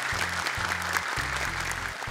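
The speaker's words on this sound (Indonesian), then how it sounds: "Tepuk tangan untuk kedua peserta kita." A studio audience at a televised Quran memorisation competition applauds the two young contestants, a continuous wash of clapping under a low musical tone.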